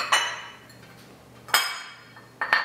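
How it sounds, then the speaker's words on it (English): A glass or ceramic bowl covered with a plate and flipped over: three sharp clinks of dishware, one at the start, one in the middle and a double knock at the end, each ringing briefly in a quiet kitchen. "So cover the bowl with the plate and flip it over."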